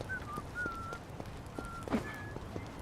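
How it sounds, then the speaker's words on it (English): Faint, quiet whistling drifts through a scene in the video game Yakuza: Infinite Wealth, a few short held tones with light tapping or footstep-like clicks underneath, no voices. "Who's whistling?"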